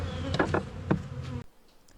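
Honey bees buzzing close by at the hive as it is opened for feeding, a steady tonal drone with a few louder passes that drops away abruptly near the end.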